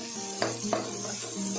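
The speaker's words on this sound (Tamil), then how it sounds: "வெங்காயத்தோட வெங்காயம் பூண்டோடு நல்லா கலந்து விட்டுருங்க" Onions and garlic frying in a pan and being stirred, with a soft sizzle and a couple of brief spatula scrapes, close and short.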